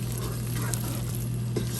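Bheja fry, spiced goat brain, stirred and mixed in a frying pan, with a steady sizzle and a few soft scraping strokes close by, no talking.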